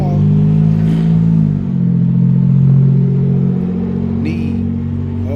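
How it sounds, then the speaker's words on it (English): Cars on a city street rumbling and revving close by, a continuous low engine drone with one vehicle accelerating past and a brief squeal near the end. "All these cars, man, around us."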